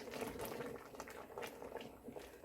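Dakgaejang, a spicy Korean chicken soup thickened with flour, bubbling in a covered pot, giving a steady close simmering burble with soft pops, no talking.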